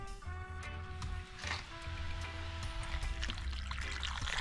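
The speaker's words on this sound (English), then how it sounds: "Just a bit of water, eh?" Water is poured into a pot of sweet potatoes stewing over a wood fire outdoors, a continuous splashing trickle over a low steady hum and crackle, with occasional knocks.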